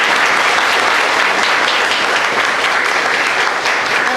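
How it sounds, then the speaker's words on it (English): Sustained, loud applause from an audience thanking a panel at a lecture event on Islam, steady dense clapping throughout with no speech. "Let's give them a big round of applause."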